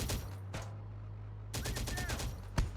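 Bursts of automatic gunfire striking a vehicle in the Terminator Dark Fate game, rapid volleys in two clusters with a pause between, over a low rumbling background hum, fairly close.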